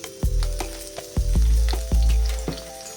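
Slit green chillies and curry leaves hit hot oil in a pan and sizzle loudly, the crackle swelling in several bursts as pieces are added and stirred, with no one speaking.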